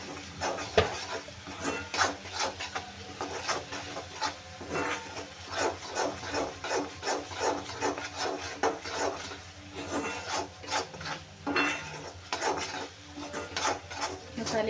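A spoon scrapes and rasps rhythmically against a pan while potatoes are stirred with coriander powder in oil for dum aloo, giving repeated close stirring strokes at a steady pace with no talk.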